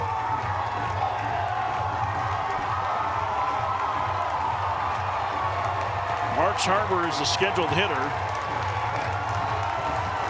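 Crowd at a college baseball stadium during the 2024 ACC Baseball Championship game between Wake Forest and North Carolina: a steady background roar with scattered clapping and cheering runs under commentators talking, with a brief burst of whistles or shouts near the end.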